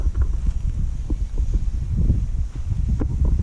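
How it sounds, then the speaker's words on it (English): Strong gusts of wind sweep across an airfield, buffeting the microphone with a deep, continuous rumble that rises and falls in uneven surges, and no voices are heard. "It really is so windy."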